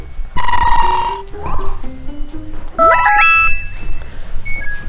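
A mobile phone ringtone plays out loud and close: a sustained electronic tone, then a run of quick rising and falling melodic beeps, with no one speaking over it.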